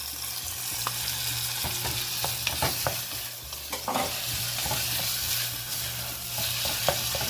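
Tomatoes go into a pan of onions and garlic sautéing over medium-high heat for a chickpea picadillo, giving a steady close sizzle with scattered spoon-stirring clicks and scrapes throughout, no voices.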